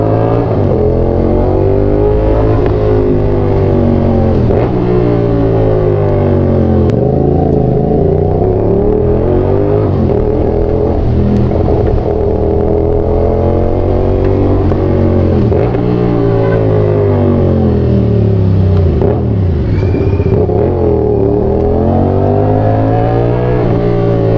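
A motorcycle engine at a Royale Motoclub checkup event revs loud and close, rising and falling in repeated sweeps over a steady rumbling idle, with brief clattering under the engine noise.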